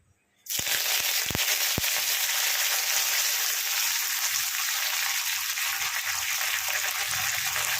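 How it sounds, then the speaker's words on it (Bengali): Fresh curry leaves from a home plant hit hot oil for South Indian masoor dal, setting off a sudden loud, steady hiss of spluttering that carries on unbroken, with a few sharp pops right after they go in. "কারি পাতা দিলেই তো এক্ষুনি ছিটকবে"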